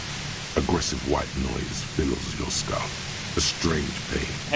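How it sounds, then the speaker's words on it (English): Aggressive white-noise static in the video game Disco Elysium, a steady broadband hiss that fills the whole clip while a voice speaks over it. "Aggressive white noise fills your skull."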